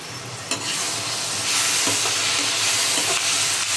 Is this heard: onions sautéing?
yes